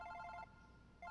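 A phone ringing in Super Paper Mario, an electronic trilling ring that sounds twice with a short gap between, quiet and clear with no talk over it.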